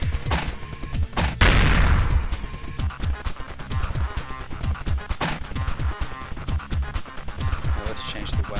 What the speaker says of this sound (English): Now they shot me twice.